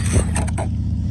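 A modded Traxxas Rustler XL-5 RC car streaks past at high speed, a brief close whir and rush that quickly falls away, with no talking.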